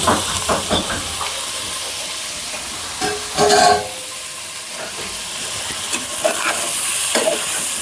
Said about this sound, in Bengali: ফুলকপি আলু ভেজে নেব আলাদা করে